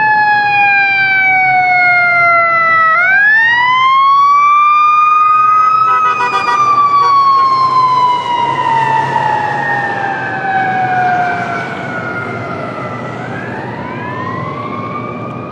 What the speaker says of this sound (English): Here's a City of Yuma fire truck.